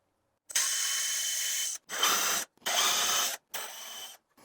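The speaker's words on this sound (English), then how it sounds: "Then I'm going to drill it with a 3/8 inch drill bit with a depth stop on it." A power drill with a 3/8 inch bit and depth stop whirs into wood in four bursts, one long run followed by three shorter ones, close and steady with brief pauses between.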